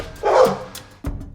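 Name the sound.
dogs barking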